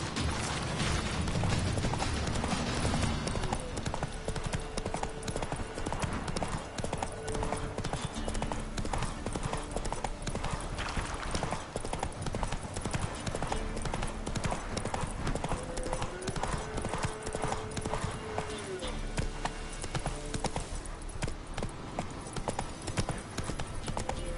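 Roach the horse gallops steadily in The Witcher III, hooves clip-clopping in a fast continuous rhythm beneath a dense game soundtrack, with brief creaks of tack and a faint whinny mixed in.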